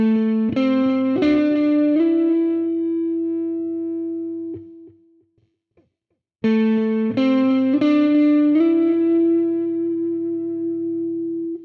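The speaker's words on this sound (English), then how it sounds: "First, connecting tones with a slide up." An electric guitar plays two blues phrases, each picked note sliding up to connect to the next, processed through an effects unit with distortion and chorus, sustained and ringing, separated by a brief pause.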